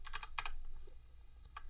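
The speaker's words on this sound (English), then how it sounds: "Then I'm just going to type submenu." Close, clear keystrokes on a computer keyboard: a quick cluster of taps at the start, a pause, then a single later key press, alone without speech.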